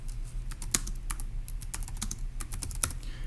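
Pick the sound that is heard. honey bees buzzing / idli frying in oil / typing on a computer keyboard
typing on a computer keyboard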